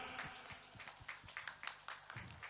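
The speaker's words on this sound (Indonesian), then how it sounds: "Tepuk tangan." A crowd at an Indonesian family monument inauguration ceremony claps in a brief, faint round of scattered applause, with individual claps standing out.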